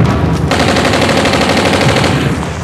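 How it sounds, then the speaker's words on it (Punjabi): Sustained automatic gunfire in a Pakistani action film scene, a dense, continuous loud barrage of overlapping shots with no break throughout. "ਰੋਸ਼ਨ ਸ਼ਾਹ ਫਾਇਰ ਰੋਕ ਦੇ"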